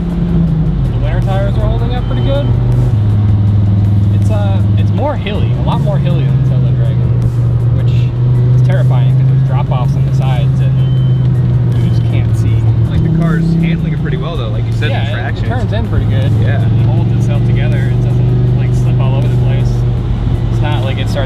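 A car engine drones steadily from inside the cabin while driving on a wet road in rain, shifting pitch as it accelerates, with someone talking over it throughout.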